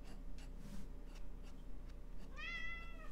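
A house cat meows once near the end, a clear rising-falling cry after quiet scratching sounds of ink drawing on paper.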